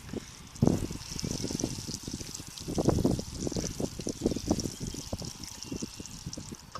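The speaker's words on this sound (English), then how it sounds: "we'll go ahead and water just a little bit more" Water trickling and dripping as seed pots are watered and the water drains through the soil, with a steady close splashing and pattering that swells in short bursts.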